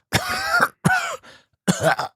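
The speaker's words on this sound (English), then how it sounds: "that's a minging cough" A man coughs in a harsh, phlegmy burst of several rough hacks, a short gap, then one more hack, close and loud.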